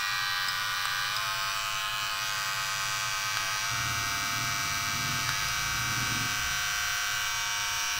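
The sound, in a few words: Kemei electric hair clipper running at 7000 RPM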